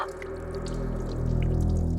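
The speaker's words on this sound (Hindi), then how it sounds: "बाथरूम में पानी बहने की आवाज आ रही है।" Water runs steadily in a bathroom, a continuous close stream with a constant low hum and a few faint drips, and no voices.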